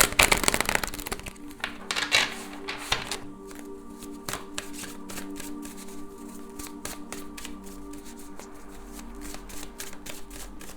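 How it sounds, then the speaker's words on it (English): Tarot cards are shuffled close up, a quick riffling burst followed by repeated soft flicks and taps as the deck is worked through. "Let's give it a good shuffle."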